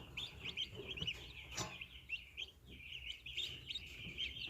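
Weak turkey chicks in a brooder give a steady stream of high, thin peeps, many overlapping, at moderate distance against a low background hum.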